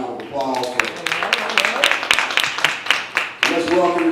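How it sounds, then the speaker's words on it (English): Audience applause breaks out for Brandon Lawrence at a community talk event, a run of claps mixed under a speaker's voice that continues over it. "So let's give Mr. Brandon Lawrence a round of applause"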